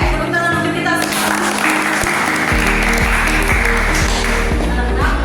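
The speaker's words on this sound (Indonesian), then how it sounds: "tepuk tangan untuk kita semua." Schoolchildren in a classroom clapping their hands together, loud and close, with rhythmic beats over music-like tonal sounds and a voice briefly at the start.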